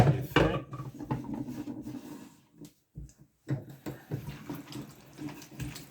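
Vegetables rinsed under a running tap, water splashing and rubbing against the produce in a kitchen sink, loud and close, with a short pause midway before the rinsing resumes.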